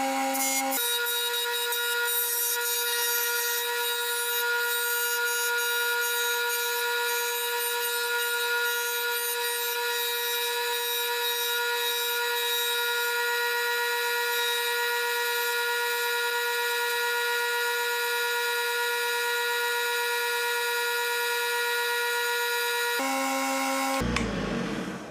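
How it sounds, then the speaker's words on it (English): A scraper cuts a Lumalite pen blank spinning on a lathe, a continuous steady whine and rasping scrape heard close and alone that runs unbroken for most of the clip before stopping near the end. "we got our Lumalite blank all chucked up in the lathe here"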